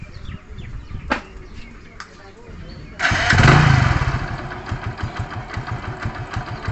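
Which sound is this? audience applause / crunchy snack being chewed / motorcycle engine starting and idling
motorcycle engine starting and idling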